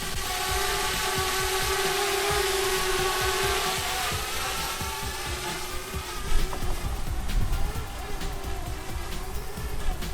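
A continuous buzzing hum with a steady tonal whine, joined partway through by rushing wind noise, from a Parrot Bebop quadcopter drone hovering nearby on a windy day.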